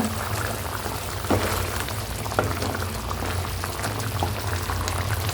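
Sambar without dal simmering in a pot, a steady bubbling boil with occasional pops, close and even throughout with no talking.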